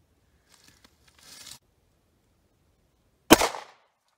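A 9mm pistol fires 115-grain standard-pressure ammunition over a chronograph outdoors, with one sharp, loud report late in the clip after a few faint clicks and rustles.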